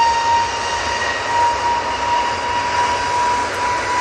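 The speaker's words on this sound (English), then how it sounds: "Get to a A321neo now on the roll." Airbus A321neo on its takeoff roll at Manchester Airport, a steady, loud, broadband engine roar with a high whine held throughout, no voices.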